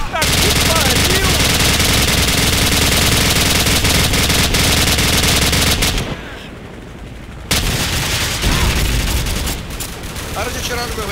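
Dense automatic gunfire fills a Call of Duty 4: Modern Warfare match in rapid, loud bursts that drop out briefly in the middle, then return more sparsely. Players talk over the shooting.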